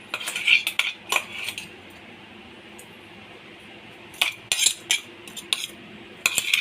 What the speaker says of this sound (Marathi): आता आपण हे सर्व बेसन पीठमध्ये मिक्स करणार आहोत